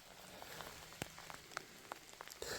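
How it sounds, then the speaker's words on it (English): Light rain falling outdoors at a rocky quartz and magnetite collecting site, a soft steady patter with scattered sharper drops, faint and alone with no voices. "the rain has definitely slowed down a fair bit"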